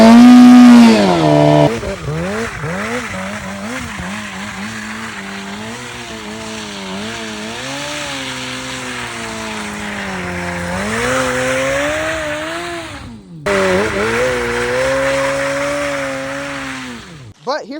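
A Suzuki GSX-R 750 motorcycle does a burnout, its engine revving hard and high with a loud wavering roar and tire squeal for many seconds, a brief drop in revs near the end, close and loud.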